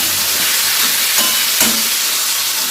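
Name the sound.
mutton and potatoes sautéing in a pan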